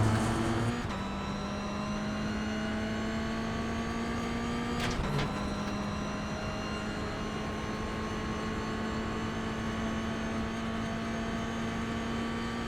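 A Toyota GR86 engine in iRacing at Oulton Park holds a steady, loud drone with a sustained pitch, dipping briefly around a shift before climbing again as the throttle stays open, no voices.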